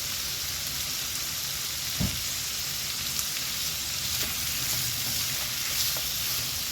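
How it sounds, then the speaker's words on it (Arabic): Sliced zucchini and onions seasoned with Maggi powder fry in a pan with a steady, close sizzling hiss, broken by occasional soft scrapes and clicks of a stirring utensil. "هنستمر في التقليب كده لحد ما الكوسه تدبل والبصل يدبل برضو"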